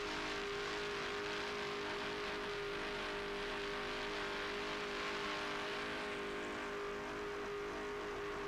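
Powerful MRD inboard racing boat engines drone continuously at a distance during a 1995 race, a steady roaring hum with slight shifts in pitch as they run.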